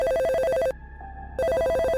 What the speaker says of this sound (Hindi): तभी उसके फोन का रिंग बजता है।